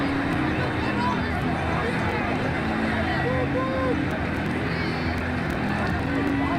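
A dense stadium crowd roars and cheers without letup after a six in an India versus Australia T20 World Cup cricket video game, a loud, steady wash of noise.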